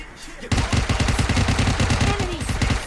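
Rapid bursts of UMP submachine gun fire in the mobile battle royale game PUBG Mobile Lite, a loud sustained string of close shots after a brief quieter lead-in.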